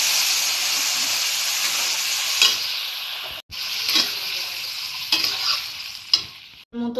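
Water poured into a hot pan of frying rice and chicken keema gives a loud, steady burst of sizzling steam that gradually thins, broken by a few clanks and scraping stirs of a utensil, close up with no talking.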